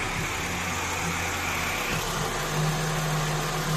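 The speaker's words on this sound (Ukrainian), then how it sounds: "Ось так от працює двигун на холодно." A 2013 Volkswagen Passat 2.5 engine idles cold, steadily and evenly, a low continuous rumble with a faint higher whir, close by and unchanging throughout.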